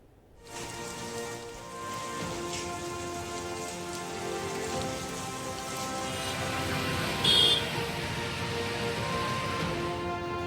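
Heavy monsoon downpour, a dense steady hiss of rain on surfaces that swells in after a quiet start and holds constant, close and with no voices.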